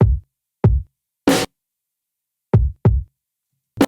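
Sampled kick and snare drum hits from GarageBand, six sparse dry strikes with low thumping kicks and one bright noisy snare crack, separated by silence.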